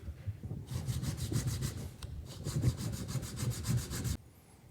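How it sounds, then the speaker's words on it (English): Hand sanding of shaped wooden toy pieces using a block with 80 grit paper, steady rhythmic back-and-forth rasping strokes in two close, loud bursts separated by a brief pause. "I'm going to come in by hand and sand these just to get some of the saw curve marks off"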